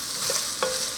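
Ham chunks, carrots and split peas are stirred together in a soup pot, giving a short, close scraping stir with a soft sizzle beneath it and one brief clink near the end.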